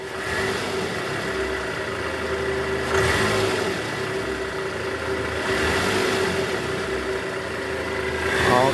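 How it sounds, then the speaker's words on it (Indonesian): A repaired Toyota Estima engine idles steadily and close by with a smooth, even hum, easing into a couple of light revs along the way, with no voices over it. "Udah nggak kasar lagi ya, suara mesinnya udah halus sekarang, udah nggak kayak mesin diesel."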